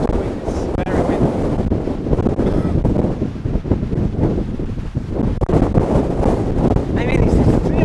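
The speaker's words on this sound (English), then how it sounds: "too windy. It's very windy." Strong wind roars and buffets the microphone continuously, loud and rough throughout, with no clear speech over it, outdoors at an RC glider flying field.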